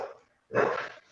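A single dog gives a short, loud, close bark or yelp after a brief moment of quiet, sounding agitated, with no one talking.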